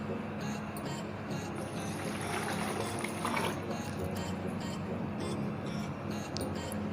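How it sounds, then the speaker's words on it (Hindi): Water poured from glasses into a cooking pot of yakhni paya pulao, a steady splashing fill running continuously under a low kitchen hum, fairly close. "ये हम तकरीबन इसमें 4 गिलास पानी ऐड कर रहे हैं।"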